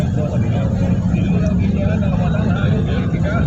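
A boat motor drones continuously over a low rumble during typhoon flooding in Manila, with people talking over it throughout.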